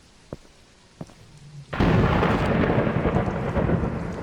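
Rain and thunder in a lighthouse video game: a couple of faint clicks, then a sudden loud thunderclap that rolls into a heavy, sustained downpour.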